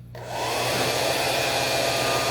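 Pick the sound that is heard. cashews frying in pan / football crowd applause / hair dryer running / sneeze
hair dryer running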